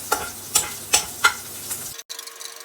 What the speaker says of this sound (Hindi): तो ये हमारे टमाटर भून रहे हैं